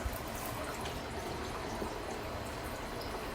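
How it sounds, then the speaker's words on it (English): Water runs steadily from a sink faucet in a mobile home, a continuous broadband rush with no talk over it. "And let's turn the water on over here."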